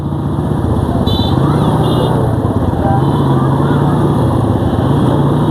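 A motorcycle engine drones steadily and loudly while riding near Beutha Bridge in Manikganj, a constant buzzing rumble with faint voices barely audible beneath it.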